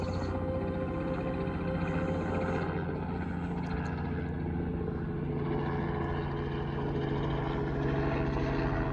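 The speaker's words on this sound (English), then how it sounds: "There's a helicopter right there somewhere." A steady low helicopter engine drone with rotor-like throbbing hangs in the air at a moderate distance over Appalachian Trail mountains near Rocky Top, unchanging for the whole stretch.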